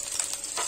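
Cauliflower florets frying in oil over lowered gas heat, a steady close hiss and sizzle with slight crackling throughout, no voices.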